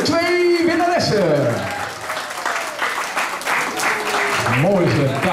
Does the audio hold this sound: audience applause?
yes